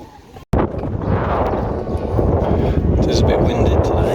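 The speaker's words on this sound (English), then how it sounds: "It is a bit windy today." Strong wind buffets the microphone on a hilltop fortification in Silves in Portugal's Algarve, a loud continuous rumbling roar that starts abruptly and holds steady, with no talk over it.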